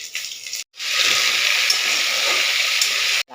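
Panch phoron spices hit hot oil in a pan with bottle gourd greens, sweet potato, pumpkin, eggplant and potato, giving a loud, close, hissing sizzle that runs steadily between two brief drops to silence.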